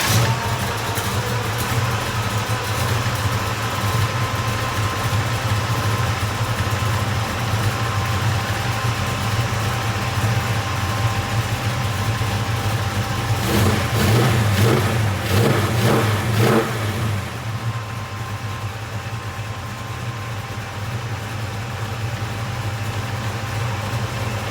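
Car engine idling with good oil pressure, a steady close rumble that rises into a brief rev around the middle, then settles back to a slightly quieter idle.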